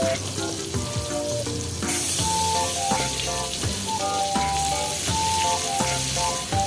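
Food frying in oil while being cooked for an Indonesian vegetable soup with meatballs, a steady close sizzle with occasional crackles and clinks, heard under background music.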